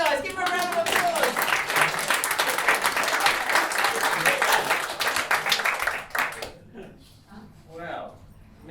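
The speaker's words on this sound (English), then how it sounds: "Give them a round of applause." Dense applause from a festival audience for street performers, sustained loud clapping for about six seconds before fading, with voices and cheering mixed in.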